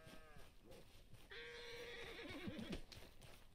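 A horse in Red Dead Redemption 2 lets out one loud, wavering whinny lasting over a second, preceded by a shorter snort and soft hoof sounds.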